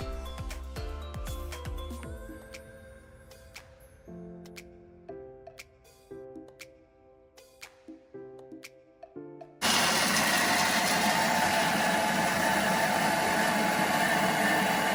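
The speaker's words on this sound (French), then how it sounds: "je viens activer la fonction mixage. Je vais mixer 30 secondes," A Thermomix blends almonds at speed 8 and comes in abruptly as a loud, steady, broadband whirring roar that holds at full level for several seconds, after quieter tapping and clinking in the kitchen.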